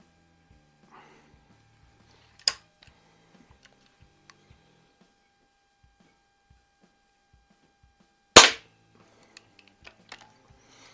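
Two sharp pellet shots from an old Eisenwerke Gem No. 13 air rifle ring out several seconds apart in a quiet garage, with faint clicks of handling and reloading between them.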